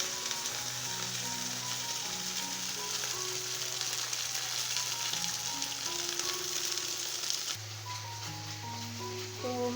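Fish frying in a pan, a steady, broad sizzle running without a break from start to finish, with faint tonal background sounds under it and no talk.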